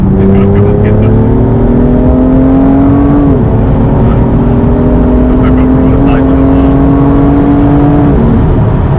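A BMW M2 accelerates hard from inside the cabin, its engine note climbing loudly through the revs, dipping briefly at an upshift before rising again to another shift near the end.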